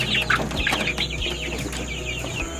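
Several free-range village chickens cluck and chatter close by in a backyard, overlapping calls in an irregular stream with faint background noise.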